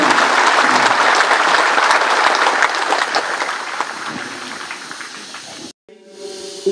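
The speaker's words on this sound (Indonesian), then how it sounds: "menyambutnya dengan tepukan tangan sebagai tanda kegembiraan kita." Congregation clapping at a Catholic priest ordination in Hokeng, Flores Timur, a dense, loud burst of applause that tapers off before a brief silence, then faint indoor murmur.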